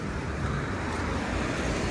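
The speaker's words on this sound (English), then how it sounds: "There's the 121 bus" Street traffic on a downtown Toronto street with a TTC 121 bus going by, a steady broadband road rumble and engine hum that stays fairly constant and close throughout.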